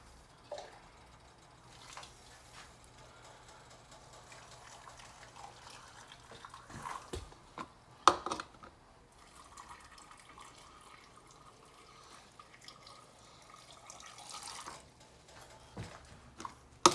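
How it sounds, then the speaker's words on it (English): Water is poured slowly from a vessel into glass canning jars packed with carrots, a faint intermittent trickle and splash with small clinks, quiet and close with gaps between pours. "And I'm pouring it a little bit slowly so I don't shock the glass."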